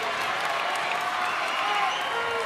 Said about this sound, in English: the crowd goes wild for a scramble exchange there